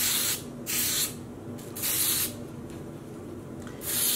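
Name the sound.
spraying Wilton's Color Mist food coloring spray onto yarn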